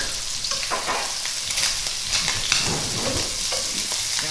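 Scallops searing and being turned in a hot pan give a steady, loud, close sizzle, with a few sharp scrapes and taps from the flipping.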